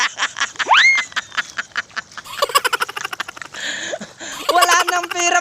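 Ducks on a duck farm quack loudly and close by during poultry feeding, with rapid bursts of repeated calls that overlap and come in uneven clusters.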